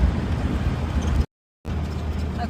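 A 1098cc Morris Minor Traveller driving at about 30 mph through town: a steady, moderately loud engine and road rumble, broken by a brief gap of silence partway through.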